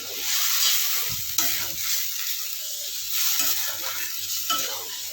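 Water is poured into a pan of pumpkin and hilsa fish curry, setting off a loud, steady sizzle with bursts of bubbling and stirring close by.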